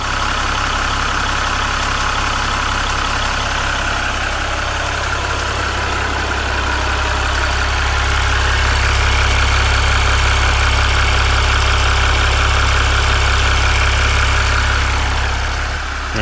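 Ram EcoDiesel engine idling under an open hood, a steady low diesel rumble with a faint knocking clatter on top, close and continuous, growing slightly louder midway, no voices.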